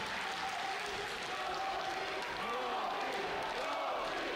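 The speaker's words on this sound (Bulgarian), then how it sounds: "Ето събори се публиката сега," A boxing crowd in Plovdiv rises and cheers on the home boxer during a national boxing league bout, a dense, steady roar of cheering and applause filling the hall, with a commentator talking over it.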